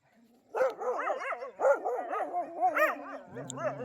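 Several street dogs chasing a Thar 4x4 bark and yap in quick overlapping bursts, near and fairly loud, ending with a few whimpering yips.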